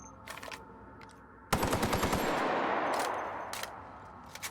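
Heavy-ammo gun in The Outer Worlds firing a long rapid burst, loud and close, with a few scattered shots before and after.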